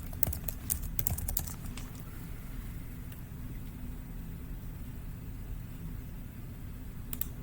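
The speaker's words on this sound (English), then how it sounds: "I'm going to type in the chat." A computer keyboard clatters in quick bursts of keystrokes near the start, then goes quiet under a steady low background hum, with a couple of isolated taps near the end.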